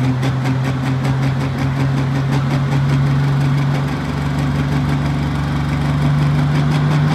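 A heavy pulling tractor engine idles close by at a county fair tractor pull, a steady loud rumble with a rhythmic chugging pulse and a constant low hum.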